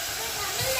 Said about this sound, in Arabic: هطش كده طشه خل